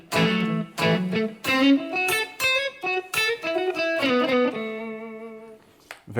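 Electric guitar through a reverb plug-in plays a melodic line of picked notes and sustained chords, loud and close, with a soft tail lingering after each phrase and a long ringing chord near the end.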